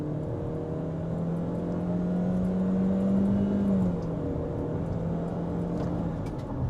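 A 2025 Chery Tiggo Cross with a CVT pulls away from a standstill in Drive, its engine holding a steady droning whir that rises slightly and then settles as the car gathers speed, heard from inside the cabin with no talking.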